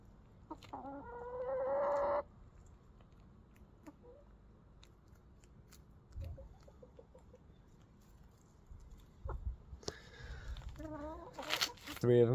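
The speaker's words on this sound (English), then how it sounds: "Three of them flocking up over here, and Foghorn just doing her own thing." Chickens cluck and squawk in short bursts, quiet stretches between, with a louder cluster of calls near the end.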